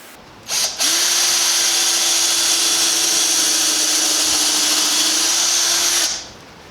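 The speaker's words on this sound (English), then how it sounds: "I'm just going to mark out for these holes that I'm going to drill" A power drill bores into a soft pine wooden door frame, a steady continuous whine held for about five seconds, loud and close, with a sharp start and a clean stop.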